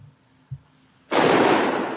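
A recorded rifle shot is played back as a single sudden loud blast with a long noisy tail, coming after a short quiet stretch with a faint thump.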